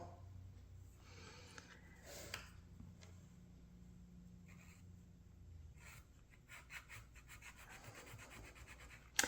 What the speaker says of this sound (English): we're having to file this down